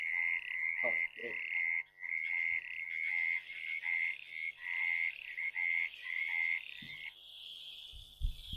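Frogs call in a loud, trilling chorus of pulsed croaks, broken by short pauses, with a few low clicks and rattles interrupting near the start and end.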